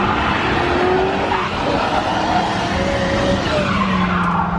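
A race car's tires squeal and skid continuously during a differential test on a track while preparing for the Freedom 500, a loud, sustained screech over engine roar with shifting pitch, close and without talk.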